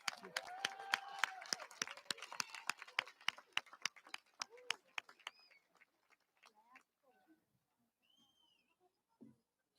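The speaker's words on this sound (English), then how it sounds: "Give them a round of applause." An audience applauds at a high school commencement, starting as loud close clapping mixed with whoops and cheers, then thinning into scattered claps that fade to near silence.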